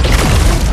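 Explosion from the 2013 film Iron Man 3, a short, loud, deep boom without speech.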